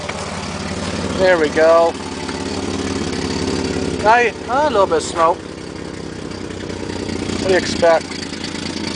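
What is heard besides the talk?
old 1967 Mercedes engine idling after cold start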